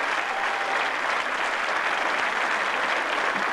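Steady applause from an audience at a school show, a dense even patter of many hands clapping throughout with no pauses.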